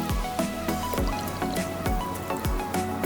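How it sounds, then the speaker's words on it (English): Water is poured a little at a time into a flan egg mixture, giving close, repeated drips and liquid splashes in a loose rhythm, fairly loud with no talking. "I pour in the water"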